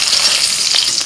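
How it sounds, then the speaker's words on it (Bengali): Raw green plantain frying in oil, a loud, dense, continuous sizzle with fine crackling close by, steady throughout the brief moment. "এবার কাঁচকলাটাও ভেজে নিচ্ছি একটু"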